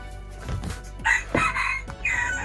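A labuyo (red junglefowl) rooster crows loud and close outdoors, one strained call rising and breaking off, alone with no talk.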